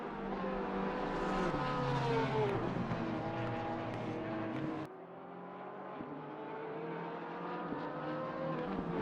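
Race car engines from a BMW and a Porsche 911 GT3 R 992 with a 4.2-liter naturally aspirated flat-six, racing at the Nordschleife in a video game, with moderate sustained engine whine, rising and falling pitch, and an abrupt cut midway.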